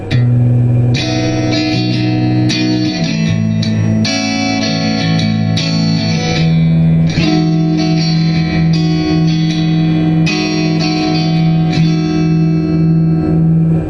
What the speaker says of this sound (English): you can also get a kind of acoustic sounds when you sweep the contour to about 9 o'clock, playing the same thing